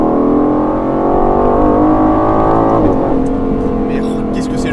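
Aston Martin Vantage driven hard at the Nürburgring, its engine loud and close with a strong harmonic drone that climbs, drops sharply near the end, then holds at a lower note.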